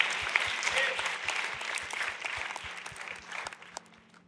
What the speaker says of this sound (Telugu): దేవునికి చప్పట్లు కొడదాం